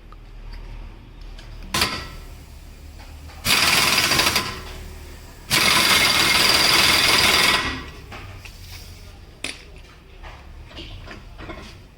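Workers tightening parts during a service of a 2009 Maruti Gypsy petrol 4x4, with loud bursts of rattling power-tool hammering between sharp clanks and quieter workshop noise, and no talking.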